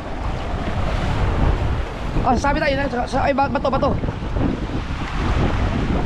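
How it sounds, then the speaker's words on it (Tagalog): Heavy surf and wind roar continuously, with someone speaking briefly over the rushing water in the middle. "Malaki ang alon."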